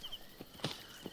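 Horse hooves in the video game Assassin's Creed Origins: a few soft, separate footfalls spaced across the moment, fairly faint over a steady game ambience with a thin whistling tone.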